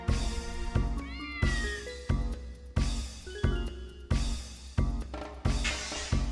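A cat in the video game Dark Cloud meows repeatedly, a series of rising and falling cries, sharp and close, over a looping game backdrop with regular low thuds.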